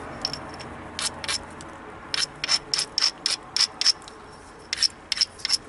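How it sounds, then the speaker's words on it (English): Abrasive grinding along the edge of a novaculite spear point during flint knapping: a series of short, sharp scraping strokes in uneven bursts, close and crisp against a quiet background. "Aggressive grinding."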